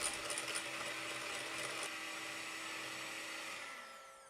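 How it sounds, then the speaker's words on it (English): Electric hand mixer whisking egg yolks with sugar for a matcha chiffon cake batter, a steady close whirring drone that holds evenly and then tapers off near the end, with no voices. "Using the same mixer, whisk the egg yolks and the remaining sugar until pale and fluffy."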